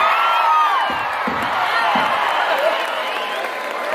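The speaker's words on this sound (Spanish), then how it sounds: "¡Un aplauso para el animal!" Crowd applause and cheering at a fair in Zitácuaro, directed at a horse, rises as a broad wash with a few heavy thuds early on, fairly loud and continuous throughout.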